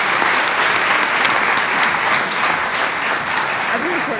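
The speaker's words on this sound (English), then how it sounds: "give them another big round of applause" A crowd in a university hypnotist comedy show claps loudly and continuously for stage volunteers, a dense, even wall of applause with faint voices mixed in.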